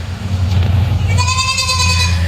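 A Nigerian dwarf goat lets out one loud, close, wavering bleat partway through, over steady low background rumble.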